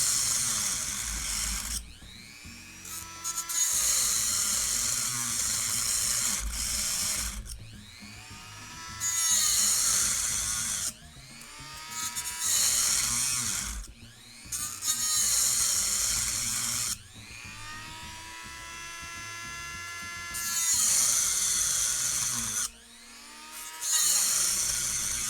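An off-brand Dremel-style rotary tool, used in building a DIY ultrasonic knife, whines loudly in several separate bursts with pitch swooping up and down, quiet gaps between runs.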